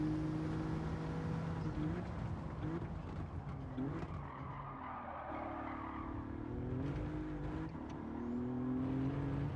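A car engine in Gran Turismo 7 revs and accelerates with a steady droning pitch that climbs and shifts gear, with faint tyre noise from the track, continuous and moderately loud.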